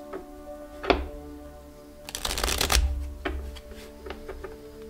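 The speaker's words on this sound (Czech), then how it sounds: "Já si tady domíchám karty, které si tady už nějakou dobu předmíchávám." Tarot cards being shuffled by hand, with soft riffling bursts and a few sharp taps of the deck, close and fairly quiet, no speech.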